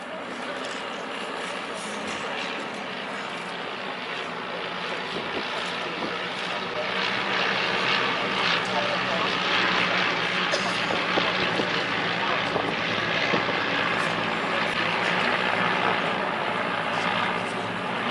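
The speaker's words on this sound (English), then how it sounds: "You can listen to those gorgeous 130 horsepower de Havilland Gypsy Major engines." Vintage aircraft powered by 130 horsepower de Havilland Gipsy Major engines pass at an air show, a droning propeller roar swelling from distant to louder and holding, with a faint voice underneath.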